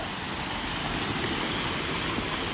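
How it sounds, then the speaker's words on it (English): A loud waterfall at Roche Abbey roars as a dense, steady broadband rush of falling water, close and unbroken throughout with no voices over it. "we'll get away from this waterfall because it's loud"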